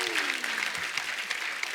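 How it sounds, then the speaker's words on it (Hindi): Studio audience applause on a TV comedy show set, a steady dense clatter of clapping hands filling the whole stretch at moderate level, with faint voices underneath. "जोरदार ताली हो जाए।"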